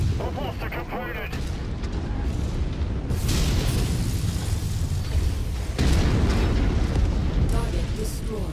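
In MechWarrior 5 a destroyed mech explodes amid battle, giving a loud, sustained rumbling blast with booming surges over continuous combat noise, while voices speak in places.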